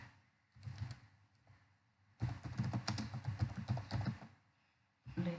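Python code is typed on a computer keyboard in interactive mode, coming as bursts of fast, close key taps separated by short quiet pauses, then a final short flurry.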